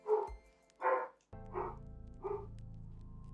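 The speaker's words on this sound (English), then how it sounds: "The dog picked up more than you" A dog barks close to the microphone indoors, four distinct barks spaced roughly half a second apart, the later ones over a steady low hum.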